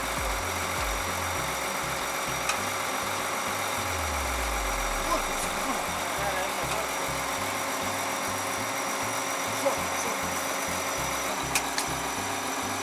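A car engine idles as the car reverses, a steady low rumble with a pitch that shifts slightly, running close throughout the clip with no talking over it.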